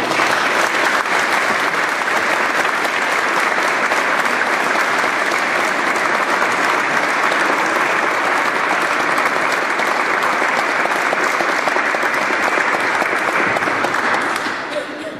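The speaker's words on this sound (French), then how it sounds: "j'aimerais bien qu'on leur dise merci et qu'on les encourage en les applaudissant" Warm, steady applause from a church congregation at a Sunday mass, thanking a choir; dense clapping fills the room continuously at even volume before tapering off at the very end.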